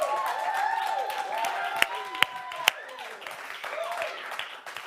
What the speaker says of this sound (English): my friends all applaud